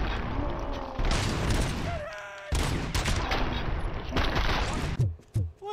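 Gunfire from the video game RoboCop: Rogue City comes in loud, dense bursts of rapid shots, broken by short pauses and ending in a few sharp final blasts.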